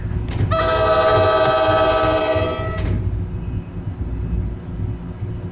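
In Train Simulator 2019, a New Jersey Transit multilevel train's loud, sustained horn blares for about two seconds over a low rumbling engine, then the rumble continues alone.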